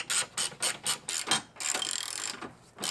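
An 18mm ratchet backing out the rear bolt on the air box bar of a G01 BMW X3, a quick series of close, crisp clicking pawl strokes followed by a steady whirring spin as the long bolt loosens.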